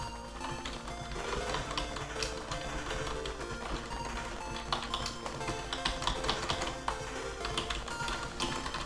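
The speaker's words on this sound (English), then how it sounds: "Sorry for all the keyboard clicking, clickety-clackening." Computer keyboard keys clatter steadily throughout a Stardew Valley gaming session recorded on an open microphone, with fast irregular clicks and taps over game music and sound effects, close and fairly prominent.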